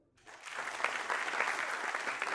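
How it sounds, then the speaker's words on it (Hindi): An audience breaks into applause for Anand Kumar, rising quickly from quiet into a sustained, dense clapping that carries on steadily throughout. "जोरदार तालियां अनंत कुमार जी के लिए"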